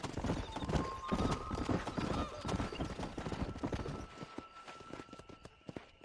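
A horse gallops in the Red Dead Redemption video game, with rapid rhythmic hoofbeats up close and a whinny layered over a dense, busy mix of game sound.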